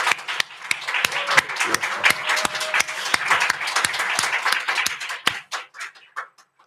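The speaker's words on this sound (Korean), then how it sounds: "우리 이 가족에게 한번 격려해 박수." A church congregation claps in encouragement for a family during a service, with sharp individual claps standing out from the applause before it tapers into a few scattered final claps.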